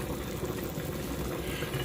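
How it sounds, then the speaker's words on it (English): Water poured into a cooking pot for Jamaican curry chicken, a steady close rushing, splashing pour that continues evenly throughout. "Just add some water to the pot."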